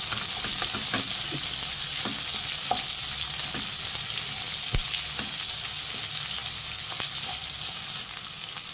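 Chopped onions fry with salt in a pan for butter masala dosa, a loud, steady sizzle broken by occasional clicks and scrapes of a stirring spatula, with no talking.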